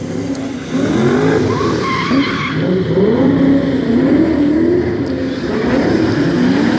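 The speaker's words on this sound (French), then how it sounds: "Roald van Riel avec sa BMW M5 Taxi Drift" A BMW M5 taxi drifts at a drift show in Luxembourg, its tires squealing in a loud continuous wavering screech over engine roar that runs for the whole stretch.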